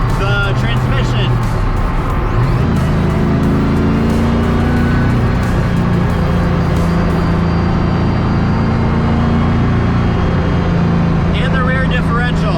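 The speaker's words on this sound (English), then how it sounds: "You can hear everything inside of this car except for your own thoughts. So you hear the motor, the transmission." A 1000 HP Ultima RS driven on the road, with its motor and transmission roaring loudly inside the cabin as the engine note rises and falls, and a person talking over it throughout.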